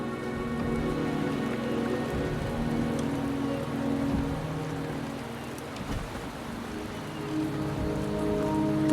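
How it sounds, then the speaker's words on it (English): Rain falls steadily in Wuthering Waves, a dense, continuous patter on surfaces with a low rumbling undertone and a soft tonal music bed, no voices. "The rain is subsiding"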